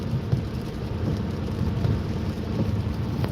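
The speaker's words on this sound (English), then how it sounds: "Thunderstorm." A thunderstorm with steady, dense rain and a low, continuous rumble of thunder, loud and constant throughout with no voices.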